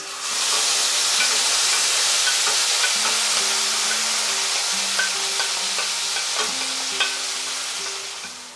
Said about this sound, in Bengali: আমি এই মাছ ম্যারিনেশনের যে গ্রেভিটা সেটা এর মধ্যে দিয়ে দিলাম